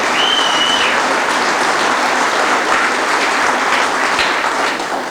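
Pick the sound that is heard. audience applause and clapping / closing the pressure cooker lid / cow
audience applause and clapping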